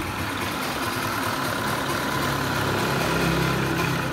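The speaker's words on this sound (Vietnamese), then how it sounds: "Thì các bạn đang nghe là đang nổ máy nha." A Honda Wave S100 motorbike with a stock, unmodified engine idles steadily up close, an even, continuous putter with no other sounds.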